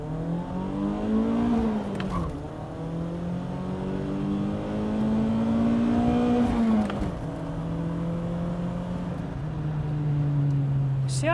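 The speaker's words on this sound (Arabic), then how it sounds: "اعطيكم دوسه سريعه مشان تشوفوا قوه السياره وانتم تحكموا" A 1988 BMW M3 E30 engine revs up through the gears on a quick run, its note climbing and dropping at each shift about three times, heard steadily from inside the car with no talking.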